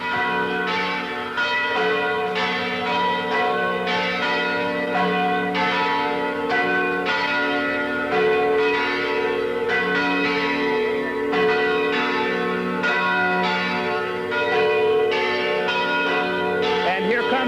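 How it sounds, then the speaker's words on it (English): Santa Barbara Mission church bells ringing continuously in a steady, overlapping peal for Queen Elizabeth II's visit, clear and fairly close, with faint crowd noise underneath. "And the bells of the mission."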